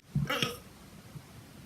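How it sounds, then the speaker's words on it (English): A single short, low burp erupts near the start, followed by quiet room noise. "I keep burping."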